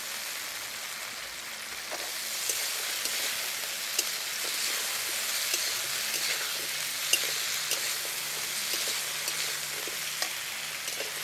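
Drumstick pieces sizzle steadily as they fry with softened tomato in a pan, with faint clicks from stirring and no talking.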